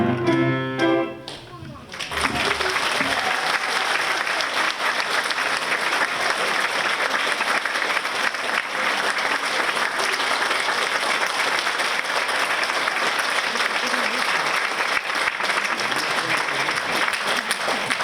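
Sustained audience applause fills a concert hall after a choir's song at a Mother's Day concert, dense and even clapping for many seconds following a brief trailing bit of singing at the start.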